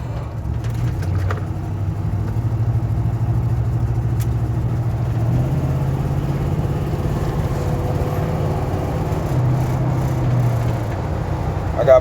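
Cabin of an old truck on the move, a steady low engine drone and road rumble throughout with faint rattles and no clear talking.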